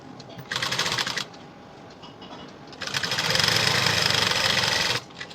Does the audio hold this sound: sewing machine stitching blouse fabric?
yes